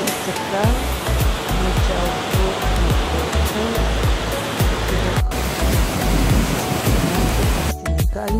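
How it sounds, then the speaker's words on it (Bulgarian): A loud, steady roar of a waterfall cascading by the sea in Istanbul, close by, continuous throughout with low rumbling surges and splashes, no voices. "Оттам видяхме каскада на море."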